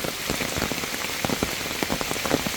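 A downpour hisses without pause, thick and even, with sharp individual drops pattering close by on a hard surface and no one speaking.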